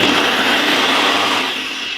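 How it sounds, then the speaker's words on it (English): A Ninja blender whirring at full speed as it blends kiwi and mango into a smoothie, a steady, loud, close motor roar that holds for the whole moment with no voices. "The bad boy is the Ninja blender. Very fast, chop it up good and nicely"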